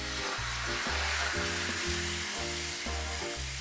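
Beaten egg goes into a hot frying pan and sizzles loudly and steadily, a bright hiss with crackle over a low pulsing hum from the stove, close by and without talk.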